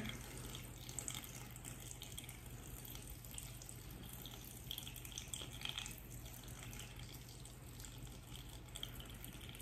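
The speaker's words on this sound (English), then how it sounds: "pour some fertilizer water over this to have it drain down to the pond layer" Fertilizer water poured over the layers of a small terrarium, a quiet, steady trickle and splash running continuously without voices.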